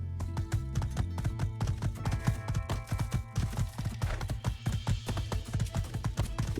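Horse hooves clip-clopping at a steady galloping rhythm in the My Time at Sandrock video game, close and continuous over a looping musical background, with no talking.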